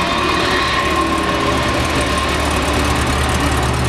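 A 1995 Honda Goldwing GL1500 Aspencade motorcycle engine idles after startup, a steady, loud, close low rumble that holds evenly throughout without revving.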